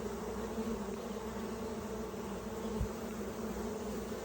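A dense, continuous buzzing of many honey bees surrounds a hive inspection, a steady close drone with no talk.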